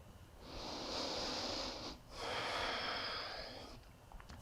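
Slow, audible breaths during a neck and shoulder stretching exercise, two long airy exhales in succession separated by a brief pause, close and soft.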